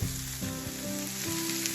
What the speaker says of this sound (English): just listen to the sizzling happening on this grill right now